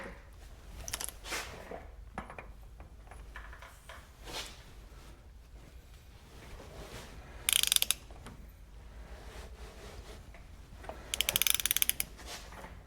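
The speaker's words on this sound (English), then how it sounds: "Now we're seating the bearings." A classic GM front brake rotor hub is spun by hand to seat its wheel bearings, giving a quiet ratcheting whir with two louder bursts of clicking spin, close up and without talk.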